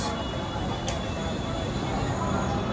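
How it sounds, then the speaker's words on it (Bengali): The Gaya Vande Bharat Express, train 22303, rolls into Howrah station with a steady, loud rail rumble and a brief high squeal early on. "এদিকে ঢুকছে বন্দে ভারত এক্সপ্রেস।"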